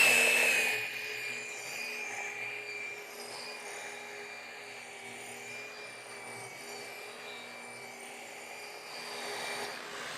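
A rotary polisher whirs at low speed while spreading polish across car paintwork, a steady high motor whine with soft rubbing underneath, fairly close and continuous after a slightly louder start.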